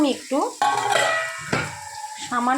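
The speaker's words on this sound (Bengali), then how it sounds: "এখানে আমার আলুটা প্রায় ভাজা হয়ে এসছে" Potatoes fry and get stirred in a pan, with short bursts of spoon scraping and sizzling over a tonal, voice-like background.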